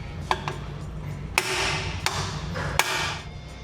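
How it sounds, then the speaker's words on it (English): A hammer strikes a bearing installer tool to drive a rear axle bearing into a Fox Body Mustang axle housing, five sharp metallic blows spaced irregularly over quiet shop background. "how are we gonna install this bugger? With our special tool, bearing installer."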